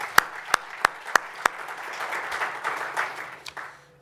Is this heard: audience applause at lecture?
yes